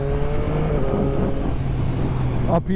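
A 2021 Yamaha MT-09 SP motorcycle engine drones steadily while riding, with wind rush and a voice speaking briefly near the end.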